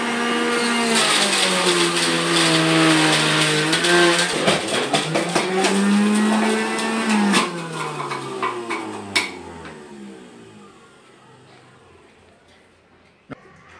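An electric juicer runs loud and steady as carrots are fed in, its motor whine dipping and rising under the load before spinning down, with a couple of clunks toward the end.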